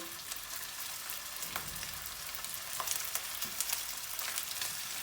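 Meatballs for sulu köfte fry in about half a cup of oil, with a soft, dense crackle of bubbling and popping that picks up a little toward the end. No one speaks.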